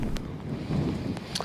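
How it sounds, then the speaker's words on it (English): Gusty wind during a rainstorm in Northern California buffets the microphone in low, rumbling bursts that rise and fall throughout, with no voices. "It's getting a little more windy now."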